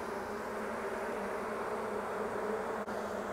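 Dense, steady insect drone of a honeybee colony at its hive, newly established from a swarm, sustained and fairly close with no break and no voices.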